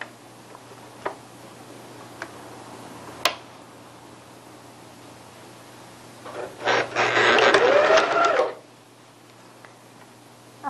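A sewing machine stitches curtain fabric along a pleat line in one short, steady run of a couple of seconds near the end, after sparse ticks and clicks over a quiet hum.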